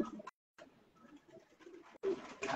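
Pure black-faced Sialkoti pigeons being shown by hand, with soft low cooing murmurs and rustling broken by a short silent gap, then a louder burst of handling noise at the end.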